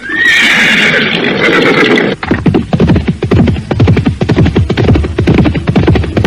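Horses neigh loudly at the start of a radio-drama scene as two riders mount their horses, then hooves clatter in a steady rapid rhythm close by with no talk over them.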